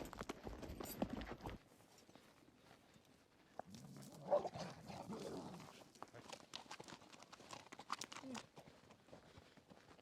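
Horses ridden across open Mongolian wilderness, hooves clip-clopping in a loose steady rhythm at close range, with wind and faint movement around them and no talk.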